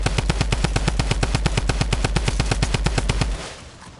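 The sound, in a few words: gunshots in the video game Fortnite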